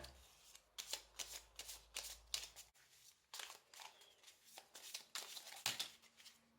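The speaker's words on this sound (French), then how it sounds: "On va tirer une autre carte, l'oracle de la forêt." Oracle cards are shuffled and drawn in quick riffling bursts, close and crisp, with short pauses between handfuls and a faint low hum in the background.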